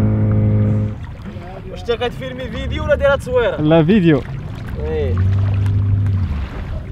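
An outboard motor drones steadily on a boat at sea off Dakhla, fading under a stretch of close conversation between people before returning loud and even.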